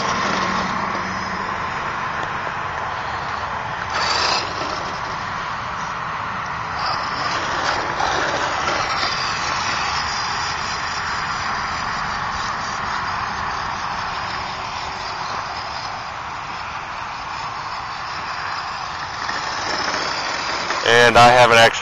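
A ZMT-10 electric RC truggy running box stock on an unbroken-in motor whines steadily throughout, a continuous mid-to-high electric drone with brief surges and a louder burst near the end, while a person talks over it at times.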